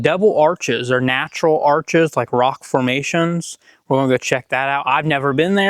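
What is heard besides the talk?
No distinct noise like a dog, phone or traffic.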